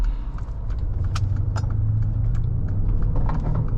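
A 2015 Mercedes ML63 AMG W166 cruising gently, its engine giving a steady low rumble inside the cabin with faint mechanical clicks and soft shifts throughout.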